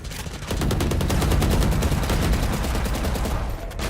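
Spectre submachine gun firing in Valorant, a sustained rapid burst of automatic shots in a fast even rhythm, loud and close for nearly the whole stretch.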